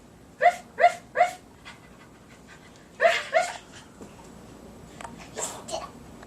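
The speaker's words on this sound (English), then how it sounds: "Wow, is it a dog?" A dog pants in quick, close bursts, three in a row, then two more after a pause, followed by faint soft sounds.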